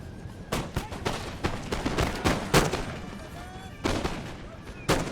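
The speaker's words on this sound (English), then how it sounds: "They are shooting the light dragoons." Musket volleys crackle in a Napoleon: Total War battle, dense rolling gunfire with sharp bursts rising out of a continuous battlefield din.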